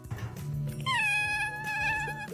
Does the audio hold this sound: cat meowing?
yes